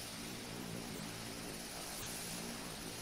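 Airplane engine in a flight video game, a steady, faint broadband drone and hiss with no breaks, heard alone.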